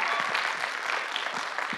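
An audience at a school event claps to welcome contestants onto the stage, steady dense applause from a moderately sized crowd, even and sustained throughout.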